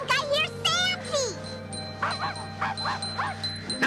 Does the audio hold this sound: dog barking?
yes